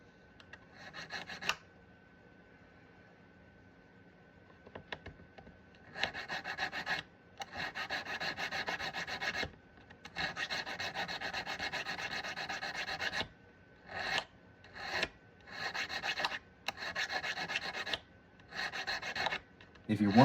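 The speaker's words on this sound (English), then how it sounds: "This one was gapped, so I had to file it flush." Steady rasping of a file on a metal jump ring seam in repeated bursts of strokes with short pauses between, close and fairly loud over a low background hum.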